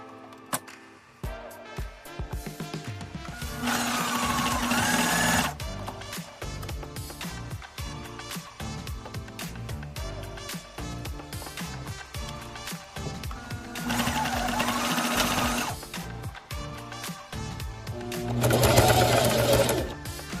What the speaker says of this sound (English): I'm going to go to my sewing machine and baste that into place.